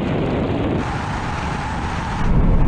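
Porsche 911 Turbo S and Porsche Taycan Turbo S accelerating hard side by side in a straight-line drag race, a loud sustained engine roar with road and tyre noise that swells louder near the end.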